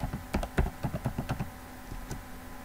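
Rapid, close clicking keystrokes on a computer keyboard while entering router configuration commands, an irregular burst of taps that slows and thins out toward the end, with no voices.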